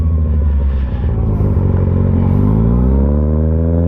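A 2025 Kawasaki ZX6R motorcycle ridden at night, its engine droning loud and close in a continuous tone that slowly rises in pitch as it accelerates, with no talk.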